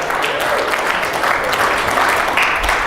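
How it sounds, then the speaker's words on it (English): A conference audience claps together in a dense, sustained burst of applause that stays steady and fairly loud for about three seconds, with no single voice standing out. "Give yourselves a round of applause."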